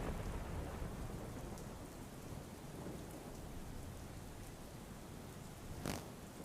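Heavy rain pours down steadily over the streets of Babra town in Amreli, a dense, even hiss of downpour with a brief sharper spatter near the end.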